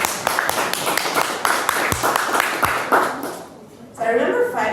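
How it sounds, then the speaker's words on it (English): Audience at a panel discussion claps for the panelists, scattered individual claps in an uneven rhythm that fade out before a burst of other noise at the end. "A big applause for my panelists."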